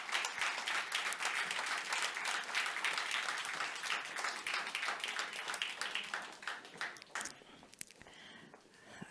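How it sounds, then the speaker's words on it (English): An audience at a conference in Košice claps together in sustained, dense applause that gradually thins out toward the end. "Once again, a round of applause."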